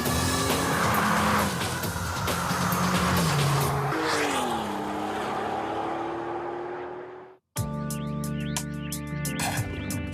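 A Volkswagen Golf GTI W12 with a 640 hp engine roars as it accelerates, its pitch climbing steadily with some tyre noise. The sound cuts out briefly, then a sharper, higher engine note returns.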